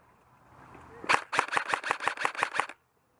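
A rapid burst of about nine sharp airsoft gun shots fired during an outdoor team skirmish, loud and close, with faint movement beforehand and silence after.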